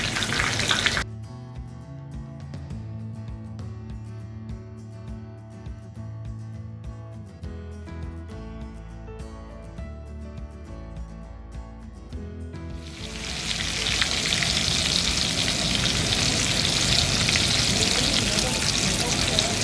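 Scotch eggs frying in hot oil give a loud, steady sizzle, briefly at the start and again through the last several seconds, with background music filling the gap between.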